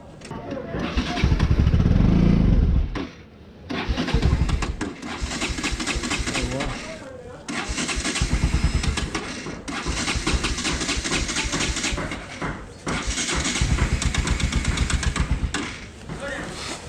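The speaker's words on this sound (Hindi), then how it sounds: "तो जी बाइक स्टार्ट करते हैं," A motorcycle engine cranks and fires up, then revs and idles unevenly with several throttle blips; people talk nearby.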